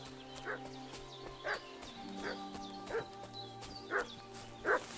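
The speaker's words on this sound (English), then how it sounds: "What's that dog making such a fuss about?" A dog in the Kingdom Come: Deliverance 2 game barks in short, evenly spaced bursts about once a second, somewhat distant over a steady low background hum.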